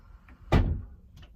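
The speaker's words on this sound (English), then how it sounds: "I'll just shut my door." A room door shut indoors in a home craft room, one solid thud of closing, close and fairly loud, followed by a faint rattle in a quiet room.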